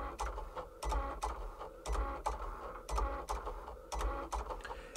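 A Cricut machine cutting calibration lines into paper for print-then-cut, its carriage buzzing in regular bursts with rhythmic clicks and low thumps, close and steady.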